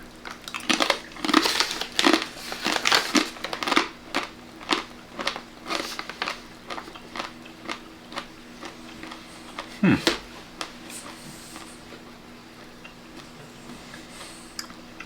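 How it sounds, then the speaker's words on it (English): Crunchy high-protein chicken crisps being chewed close up, a rapid series of sharp crackling bites that are loud at first, then thin out into quieter, sparser crunches, with no talking. "It's a good bit of chewing."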